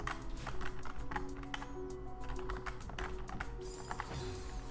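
Computer keyboard keys tapped in quick, uneven bursts while playing the platformer Celeste, close and clear over a steady low electronic hum of game music.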